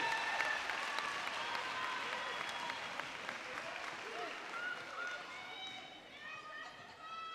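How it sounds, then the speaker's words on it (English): Graduates and their families applaud at a graduation ceremony, a dense crowd clapping that runs steadily and slowly thins, with cheering and chatter mixed in and some voices talking over it. "Give yourselves a round of applause."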